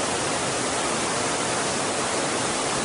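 A waterfall about 20 to 30 metres high in Morocco pours with a dense, even roar of falling water, loud and constant with no pauses or voices.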